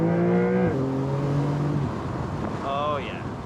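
Porsche 992 Targa 4 GTS engine revving and dropping as the PDK gearbox makes quick shifts, heard from the cabin, with rising and falling engine tones, a shift drop partway through and another rev near the end.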